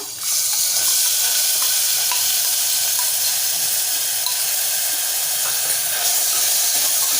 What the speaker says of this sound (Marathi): छान परतवूया आपलं वाटण छान परतलेलं आहे आणि तेल सुटायला सुरुवात झालं आहे